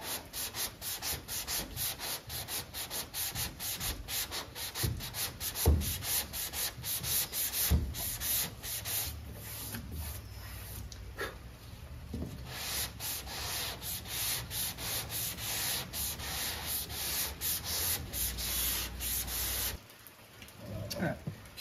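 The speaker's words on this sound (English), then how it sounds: "Nice, slow, calculated movements also work well because you don't want to jam that tape off the end. You want to sand to it." Hand block sanding of high-build primer along a car's body lines, with long rhythmic abrasive strokes repeating steadily and close up, briefly pausing near the end.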